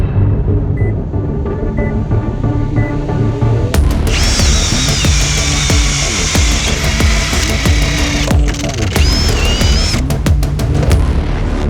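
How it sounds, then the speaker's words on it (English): A Flex 24-volt cordless drill bores a 1-inch spade bit through a wooden king stud, starting with a low motor whine and rising into a loud, sustained high-pitched drilling roar that cuts out, then briefly resumes with short bursts near the end. "We're gonna be loading up a 1-inch spade bit and driving it through a king stud."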